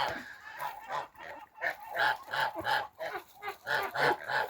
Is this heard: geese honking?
yes